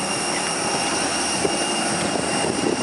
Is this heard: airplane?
yes